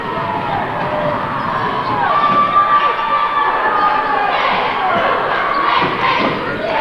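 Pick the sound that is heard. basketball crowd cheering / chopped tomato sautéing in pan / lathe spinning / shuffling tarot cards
basketball crowd cheering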